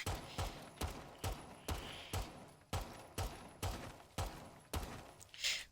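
Rapid pistol shots fired into a barricade in the game Rainbow Six Siege, about a dozen sharp, evenly spaced reports in quick succession, loud and close with no talking.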